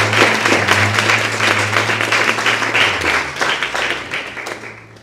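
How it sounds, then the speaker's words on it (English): An audience at an inter-secondary schools debating competition claps for the student debaters, a dense burst of applause that stays strong, then gradually thins and fades near the end, with a low hum underneath. "A round of applause for them."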